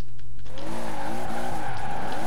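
Tires squeal in a long, loud skid as a Toyota Supra drifts in the racing game Forza Horizon 4, the sustained screech wavering over steady engine drone and running alone without talk.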